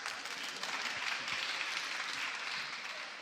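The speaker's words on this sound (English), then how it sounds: "Let's clap for them, please." An audience at a keynote lecture on children's literature claps steadily for about three seconds, a dense wash of many hands at moderate, even loudness with no voices on top.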